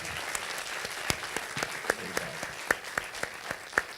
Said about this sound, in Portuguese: Eu gostaria de pedir uma salva de palmas para a Jéssica